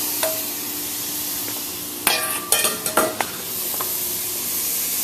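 Butter dropped into a hot skillet for a cheesy Denver skillet, a steady sizzle throughout, broken midway by a quick cluster of sharp clinks and scrapes from a utensil against the pan.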